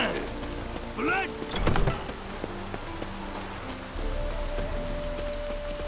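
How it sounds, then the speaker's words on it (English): Steady rain falls in the open world of The Witcher 3, a continuous hiss of drops under shifting game ambience, with a brief louder swell and a tonal game sound partway through. "Looks like rain."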